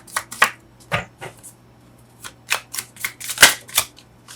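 Tarot cards are shuffled and drawn in a string of sharp, close snaps and flicks, loud and irregular with short gaps between them, over a faint low hum with no voices.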